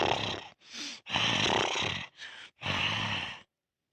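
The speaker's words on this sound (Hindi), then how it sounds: "देखो तो खर्राटे मार के सोने लगे" A cartoon man snores in a Hindi village cartoon with a voiced series of about five loud, raspy snores and snorts, close and alone, separated by short pauses.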